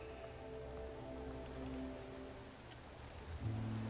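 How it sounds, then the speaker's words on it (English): Steady rain falls in the video game Infinity Nikki, a soft, even hiss of drops with a faint low rumble, then a brief louder swell toward the end. "it looks like it's going to rain."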